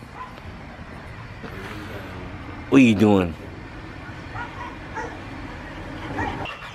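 Pitbulls give a brief burst of barking and whimpering midway, close and fairly loud, against a steady background with someone talking.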